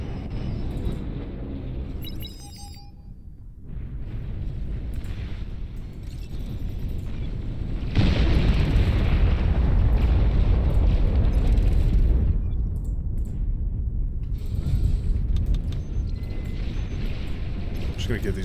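In the Beyond All Reason strategy game, a nuclear missile launch rumbles into a long, heavy roaring explosion that swells and sustains for several seconds, loud and broadband, with a voice talking over parts of it.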